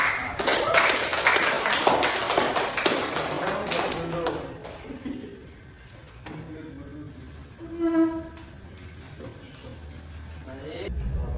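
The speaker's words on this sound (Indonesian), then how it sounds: "Mari kita beri tepuk tangan untuk kita semua." Classroom students clap their hands together in a dense burst of applause that fades after a few seconds, followed by quieter room sounds and a voice speaking.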